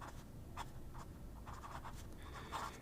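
A Feel the Flex fountain pen scratches across paper in short bursts of scribbling strokes, quiet and close, with a faint steady room hum underneath.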